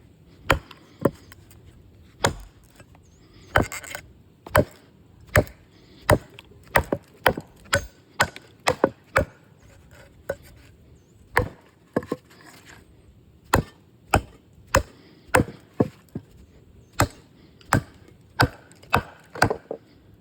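HJF Fuller kukri with DC53 steel blade chopping wood horizontally, a steady series of sharp, loud, close chops with short irregular pauses between strikes, no talking.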